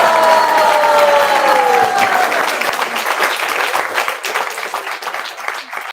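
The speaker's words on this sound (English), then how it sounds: "give them a big round of applause" An audience at an initiation ceremony in an ISKCON temple claps, loud and sustained. Cheers and voices rise at the start, and the clapping carries on steadily throughout.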